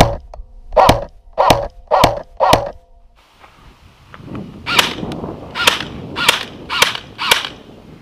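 A G&G Firehawk airsoft rifle fires nine sharp, loud, close shots: four evenly spaced cracks, a short pause with a faint background hiss, then five more at a steady rhythm.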